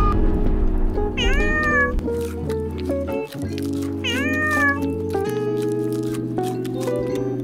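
Cats meow repeatedly, several rising and falling calls standing out clearly over a dense background of steady tonal music that plays throughout.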